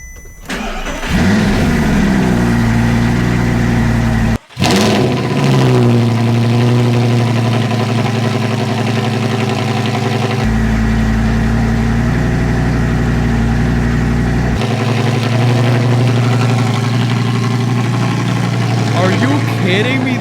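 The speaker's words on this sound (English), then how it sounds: "that cold start and idle was amazing" A wrecked Audi R8 V10 cranks and fires on a cold start, flaring to a loud, close roar before settling into a deep, steady idle, with brief blips and voices mixed in.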